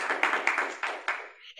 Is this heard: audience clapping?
yes